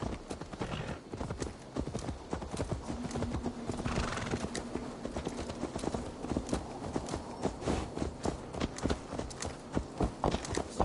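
Horse hooves clip-clop steadily at a walk, with a whinny partway through and game ambience behind.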